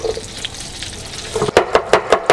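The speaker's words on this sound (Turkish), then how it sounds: "Tereyağımız mis gibi kokuyor. Aynı zamanda da sesi duyuyoruz." A soft frying crackle of butter in a pan, then from midway a run of sharper, louder sizzling bursts in a steady rhythm, close by.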